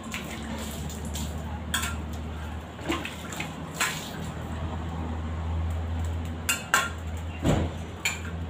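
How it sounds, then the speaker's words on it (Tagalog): Plates being washed under running water in a rural Philippine village, water splashing steadily while dishes and utensils clink and clatter intermittently, with faint background voices. "Hugas muna tayo ng plato."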